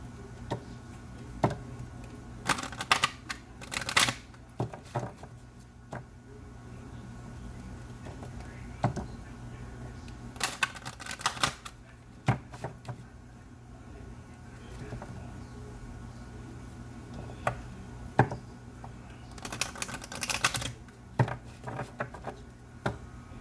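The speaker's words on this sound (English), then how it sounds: "Let me pull a few cards for you." Chakra reading cards being shuffled and pulled, heard as soft, close ticking and pattering flicks with a few denser rustling bursts against a quiet hum.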